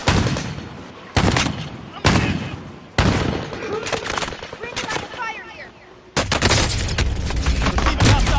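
Hostile gunfire in Call of Duty Warzone: loud bursts of automatic fire and single shots crack out repeatedly, with sharp onsets followed by dense sustained volleys and echoing booms near the end.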